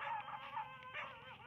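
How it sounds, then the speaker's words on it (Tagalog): Several dogs bark and yip in quick, agitated bursts close by, with whiny howling tones running through the short outburst. "galit yung mga aso sa akin"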